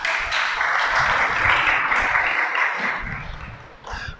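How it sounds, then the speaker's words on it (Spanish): A crowd applauds steadily for several seconds, a dense wash of clapping that thins briefly before a short final burst. "Dale un aplauso al Creador."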